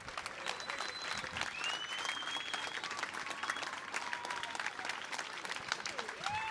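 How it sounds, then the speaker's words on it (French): A crowd at the Urban Trail de Chaumont 24-hour race applauds the seven finishers, a dense, continuous patter of clapping that sounds fairly distant and quiet, with faint cheering and whistles rising over it. "Allez, applaudissements."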